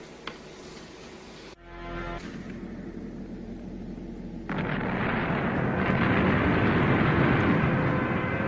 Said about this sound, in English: An explosion greater than anything we know.